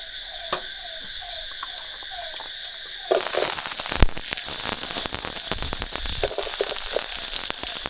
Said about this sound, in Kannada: ಹಸಿಮೆಣಸಿನ್ಕಾಯಿ ತುಪ್ಪದ ಒಳಗೆ ಹಾಕಿದಾಯ್ತು